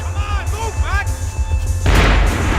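Heavy booming shots with a loud crash near the end in the video game Max Payne 3, mixed with game effects and tonal sweeps.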